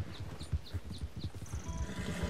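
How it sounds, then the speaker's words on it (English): In the Red Dead Redemption 2 video game, horses walk through deep snow in the mountains, with heavy, rhythmic hoof thuds in a steady plodding beat, close and continuous, and a light whistle above them. "it's like the horses are actually like strutting heavier because that's how deep this snow is"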